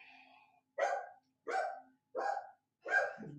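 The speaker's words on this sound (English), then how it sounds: "There goes the dogs barking." Dogs being walked along a residential street bark outdoors in the early morning, four separate barks in an even rhythm after a faint lead-in, fairly distant and alone without talk.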